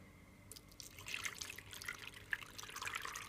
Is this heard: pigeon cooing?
no